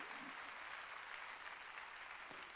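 Applause from a church congregation during a Sunday worship service: a steady, dense wash of clapping that fills the room evenly for a few seconds, fairly quiet overall.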